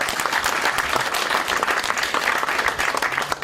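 Audience applause fills a political forum for a Connecticut governor's race, a dense steady wash of clapping from a crowd held close and loud throughout.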